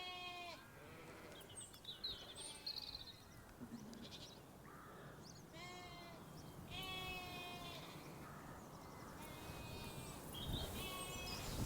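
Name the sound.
sheep bleating in a village field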